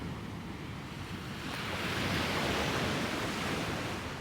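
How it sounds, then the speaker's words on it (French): Rough ocean waves break on a shore as a broad, hissing wash that surges slightly louder after the first second and a half, then holds steady, soft and distant, with no voices. "Les vagues étaient particulièrement agitées."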